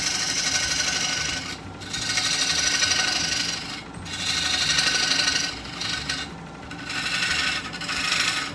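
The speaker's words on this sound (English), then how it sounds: "need to cut this tenon down a little bit." A wooden tenon is being cut down in a series of close, rough rasping passes, about five bursts separated by brief pauses, with no one talking.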